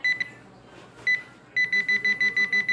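A metal detector reacts to a small vial of paydirt that may hold gold, sounding a couple of isolated tones and then a steady run of rapid, evenly spaced beeps close to the microphone.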